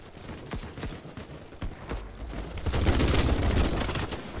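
Gunfire in the video game BattleBit Remastered, a series of sharp separate shots early on building into a denser, louder rumble of firing and explosions toward the end, no talk.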